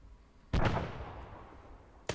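A grenade launcher fired in a military video game: one heavy boom with a long rumbling decay, then the sharp onset of a second shot, with no talking.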